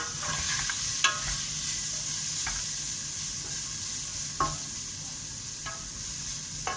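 Vegetables with fresh ginger sizzle in a pan for achards, a constant close frying hiss broken by several sharp scrapes of stirring at irregular intervals.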